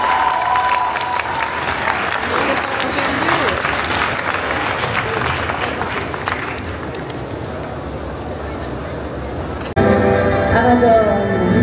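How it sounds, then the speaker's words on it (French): An audience at a comic convention in France breaks into loud, sustained applause with scattered cheers, the clapping thinning after several seconds before a sudden louder burst of crowd noise near the end. "Et on peut l'applaudir bien fort."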